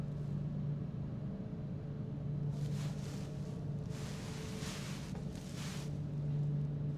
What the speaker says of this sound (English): Let's turn the engine on, see what happens.